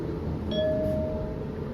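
A Liftronic Unitronic MRL traction lift, built 2023, at the Park N Go car park in Ferny Grove gives its arrival chime: one clear ringing tone that sustains and fades over a low steady hum, with no talk.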